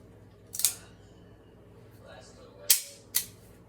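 A single-action Colt revolver's hammer is pulled back, giving sharp close metallic clicks: one near the start and a quick pair a moment later, fairly crisp over a quiet background.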